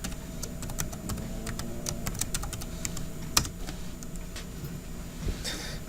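Rapid, steady clicking of computer keyboard keys as someone types a username and password at close range, over a low background hum.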